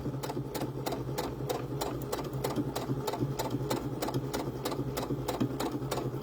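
A sewing machine stitches fabric into corkscrew curls, running at a fast even rhythm of sharp needle clicks over a steady motor hum, close and uninterrupted, with no one talking.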